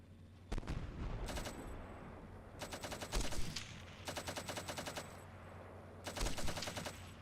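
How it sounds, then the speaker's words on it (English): Gunfire in the Steel Beasts Pro PE tank simulator game: several bursts of rapid machine-gun fire with sharp shots, moderately loud and separated by short pauses. "We're taking fire here."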